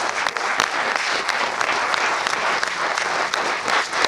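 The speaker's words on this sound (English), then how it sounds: "Please give her a round of applause." An audience applauds a speaker after a talk on AI and large language models, with sustained, energetic clapping from a full room and sharp individual claps standing out.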